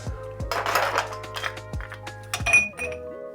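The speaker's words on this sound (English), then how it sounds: "A few ice cubes," Ice cubes drop into a glass holding Irish whiskey for a shandy beer cocktail, several bright clinks and knocks ringing out in an uneven series, close and clear with no talking.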